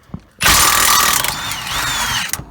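A hand ratchet works loose a steering gear bolt on a 2003-2008 Dodge 2500/3500 truck, giving a close, steady clicking whir for about two seconds after a brief quiet start.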